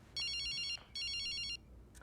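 A telephone rings twice in a horror short film, two bright electronic trilling bursts with a short pause between, clear and fairly faint over a quiet background.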